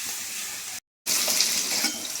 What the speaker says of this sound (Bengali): দিয়ে মশলাটাকে আমি ভালো করে কষাতে থাকবো।